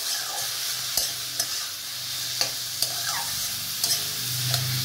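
Chili frying in a pan, a steady close sizzle broken by scattered utensil taps and scrapes as it is stirred, with a low rumble rising near the end.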